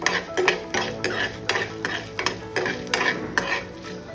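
Urad dal sautéed and stirred in a pan for tomato raita, with a loud continuous sizzle and repeated scraping stir strokes about every half second, close up with no talk.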